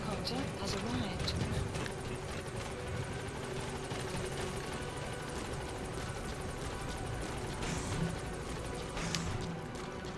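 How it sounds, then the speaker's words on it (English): Support helicopter arriving in Metal Gear Solid V: The Phantom Pain, a steady rotor drone with rhythmic chopping, continuous and fairly loud beneath game ambience and talk. "Support helicopter has arrived."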